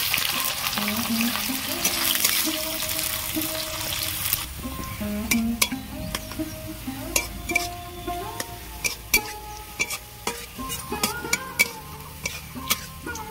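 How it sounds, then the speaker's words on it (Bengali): Sliced onions frying in hot oil for crisp beresta produce a continuous hiss with a stronger sizzle at first, then a run of scattered clicks and spatula scrapes over the softer frying bed. "এই পেঁয়াজ দুটো আমি বেরেস্তা করব, ভালো করে ভেজে নেব"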